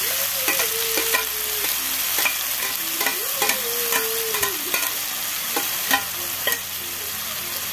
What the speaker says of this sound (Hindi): पियाजखौ होनानै मिक्स खालामना